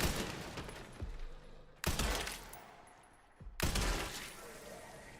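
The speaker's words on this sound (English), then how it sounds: "They do have guns." Gunfire in Resident Evil Requiem comes in three loud, abrupt bursts, each a sharp blast followed by a decaying rumble and crackle, separated by quieter gaps with faint background noise.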